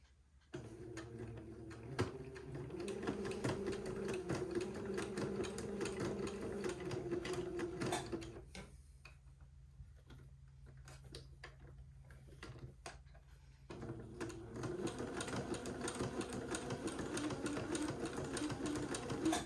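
A sewing machine zigzag-stitching entredeux lace onto fabric at the shoulder seams, running in a steady rapid mechanical chatter, then pausing briefly with quieter clicks before starting up again.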